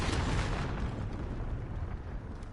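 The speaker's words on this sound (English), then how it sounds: "Predator missile." A Predator missile explodes in the video game Call of Duty: Modern Warfare: a loud, deep, rumbling blast that fills the whole clip and slowly fades, with no voices over it.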